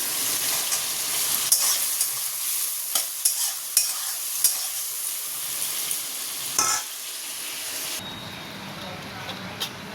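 Prawns frying in a pan with okra and mustard paste give a steady, close sizzle, with repeated clinks and scrapes of stirring through the first eight seconds before the frying quiets.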